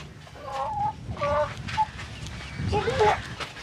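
Several short clucks from a Lingapuram country hen, close by, in bursts over a low rumbling background, with a louder squawking cluck near the end.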